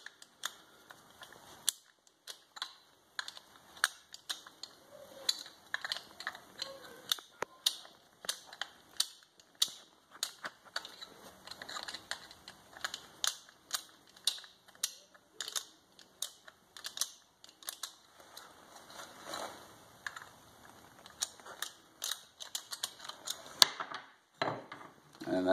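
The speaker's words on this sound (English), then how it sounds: "there's a little screw that goes right in behind there. You're just gonna unscrew that." Small screw being worked loose from behind the pistol grip of a Makarov IJ-70, heard as a long run of sharp, close, irregular metallic clicks and taps with quiet gaps between them.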